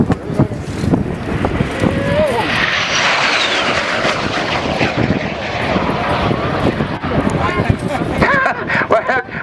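A MiG-17 jet fighter roars past at an air show, a loud, broad engine rush that rises and sweeps through with buffeting wind on the microphone and voices talking underneath.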